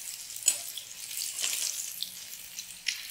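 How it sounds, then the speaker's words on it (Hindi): Eggs frying in a pan, a quiet crackling sizzle with a few soft sharp pops and spatters scattered through, close and faint, no talking. "दोनों साइड से हमें करारा एकदम फ्राई कर लेना है"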